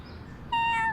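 A cat named Fufu, a male, gives a clear, tonal meow-like call after a brief pause, close and loud, with no talking.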